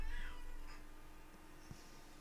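A house cat gives a faint, short meow early on, quiet and close, against a low steady room background.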